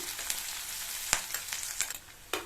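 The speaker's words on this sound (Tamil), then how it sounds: "அடுத்து ஒரு மீடியம் சைஸ் பெரிய வெங்காயத்தை கட் பண்ணி சேர்த்துக்கலாம். கூடவே கருவேப்பிலை." Chopped onion and curry leaves frying in hot oil for a spicy potato dish make a brisk, bright sizzle over a couple of seconds, with a few sharp utensil taps against the pan.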